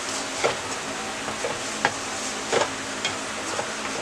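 Spices such as red chilli powder, garam masala, coriander powder and turmeric frying in oil, a soft continuous sizzle with occasional light stirring taps and scrapes, close and without talk.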